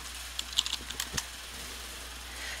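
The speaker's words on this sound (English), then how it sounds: "I'm going to type in talent show." Someone types a search on a computer keyboard in a quiet room, a short burst of light, irregular key clicks followed by silence.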